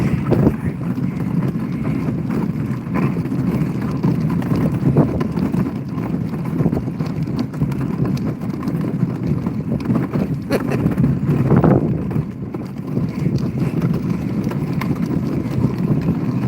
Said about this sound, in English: Much windier up here though.